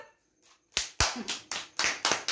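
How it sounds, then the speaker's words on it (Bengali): Hands clap at a birthday celebration, roughly six sharp, evenly spaced claps starting after a short quiet pause, close and fairly loud. "হাততালি দাও, হাততালি দাও, হাততালি দাও"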